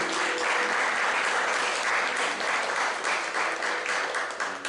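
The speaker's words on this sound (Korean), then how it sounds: "박수 한번 해주시고" A church congregation applauds during a Sunday service, a full, sustained roar of many clapping hands lasting several seconds at even loudness before tapering slightly at the end.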